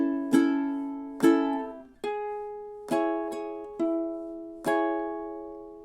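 Ukulele picks and strums measures 11 and 12 of a song, about seven distinct chord and note attacks in an unhurried rhythm, each ringing and decaying, near and moderately quiet, alone.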